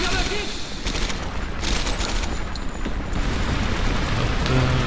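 Video game gunfire from Medal of Honor Airborne, a dense, continuous battle din of rapid shots and booms with a voice talking over it.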